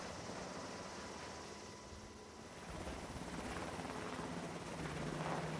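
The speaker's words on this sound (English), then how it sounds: "the carrier's helicopters fly patrols and practice rescue missions" An aircraft carrier's helicopter drones steadily with a throbbing rotor, loud and continuous, swelling slightly as it passes nearer.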